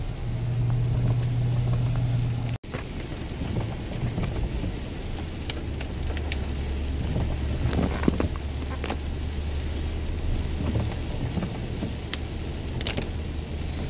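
Steady rain hisses continuously with a low rumble of a car underneath, one sharp click partway through, and no talking.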